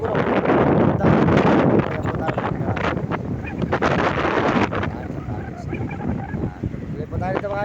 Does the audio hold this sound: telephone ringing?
no